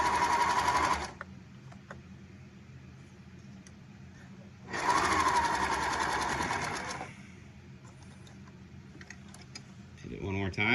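A sewing machine stitches a two-ply napkin in two loud, rapid bursts of whirring, clattering needle action, separated by quiet stretches with faint ticks and handling sounds.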